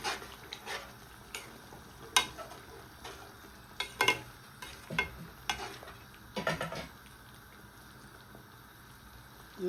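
Prawn thokku is stirred in a pan, a low steady sizzle broken by irregular clinks and scrapes of a spoon against the metal, close and fairly quiet.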